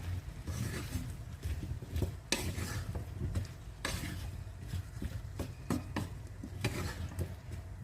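Lentils and bottle gourd with turmeric, coriander and cumin being stirred in a pan: repeated scraping and clinking of a utensil against the cookware over a soft sizzle, close and steady.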